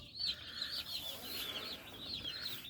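Newly arrived chicks placed under a turkey hen peep in a high, busy chorus of overlapping calls that continues without pause over faint background hiss.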